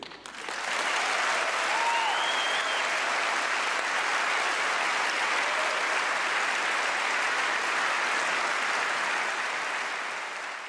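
An audience at the 2009 Byron Kennedy Award ceremony breaks into sustained applause, a thick, even roar of clapping that swells quickly, holds for about ten seconds and tapers slightly at the end.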